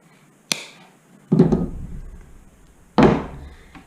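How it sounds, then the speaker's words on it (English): Bolt cutters snip through a steel wire shark leader near a crimped sleeve. A sharp metallic snap is followed by two heavier, close, dull chopping clunks spaced about a second apart. "We're going to cut off the excess edge with the bolt cutters"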